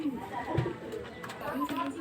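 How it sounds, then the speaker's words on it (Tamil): Soft, low cooing from a pigeon, a short call standing out briefly amid someone talking nearby. "நல்லா சூப்பராக இருக்கும் புறா பார்க்குறதுக்கு"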